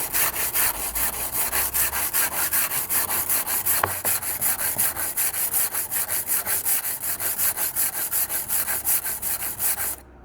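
A damaged kitchen knife with a 3mm chipped edge and tip is ground freehand on a sharpening stone, giving a steady, close, rhythmic scraping of strokes back and forth throughout, with no talking.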